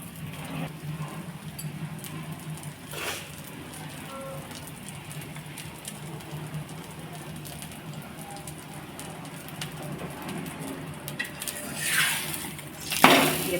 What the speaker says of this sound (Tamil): எண்ணெய் ஊற்றுனதில் நம்ம பராட்டாவை போட்டுக்கலாம். அதுக்கு மேலே இன்னும் கொஞ்சம் எண்ணெய்.